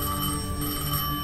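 A telephone rings steadily in Destiny 2, a continuous bell-like tone filling the short moment at moderate loudness with no voices over it.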